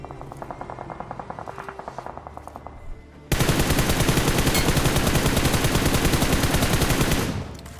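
Rapid automatic gunfire in the mobile shooter BGMI, first as a quieter, steady stream of shots for about three seconds, then a sudden, much louder and denser burst of sustained firing that runs for roughly four seconds before cutting off.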